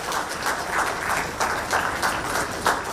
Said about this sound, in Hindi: जोरदार तालियां स्वागत स्वरूप जरूर हो